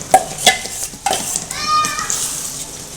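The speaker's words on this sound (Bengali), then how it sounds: "এবার আমি মশলাটা দেব এখানে নিয়েছি আদা রসুন পেঁয়াজ আর কিছুটা কাঁচা লঙ্কা পেস্ট" A ginger, garlic, onion and green chilli paste goes into a hot pan for a mutton and potato curry, with sharp spoon clinks against the pan followed by a soft sizzle and stirring.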